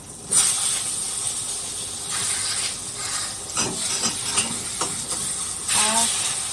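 Large brinjal slices hitting hot oil with turmeric in a home kitchen pan, a steady hiss and sizzle with bursts of spattering and brief scraping stirs, no talking.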